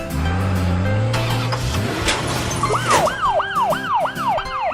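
A cartoon green ambulance starts its engine and then wails with a siren, a rising and falling tone that repeats about five times in a steady rhythm, loud and close.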